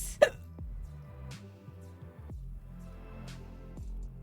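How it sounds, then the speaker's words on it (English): Two or three sudden hiccups from a person stand out over a faint, steady, tonal background hum, each one a short sharp catch, spread over about four seconds. "I can keep the hiccups from affecting my hand steadiness"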